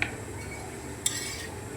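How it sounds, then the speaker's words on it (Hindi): Tongs shift a roti across a ghee-coated griddle, giving two sharp metallic clicks, one at the start and one midway, over a faint steady sizzle. "चिमटी के साथ ही इसको मैं हिलाऊँगी"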